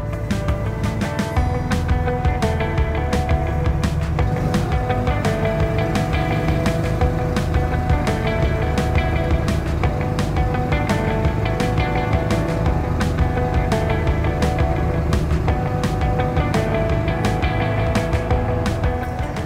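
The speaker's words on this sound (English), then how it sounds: "I will start the engine so the audio will become a little bit noisy." A steady engine drone runs continuously with a low rumble and a regular ticking pulse, loud and close throughout.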